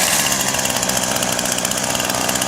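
Small engine running on its own with a stuck throttle, a steady loud buzzing drone with a fast rhythmic pulse, close and continuous, with no talk.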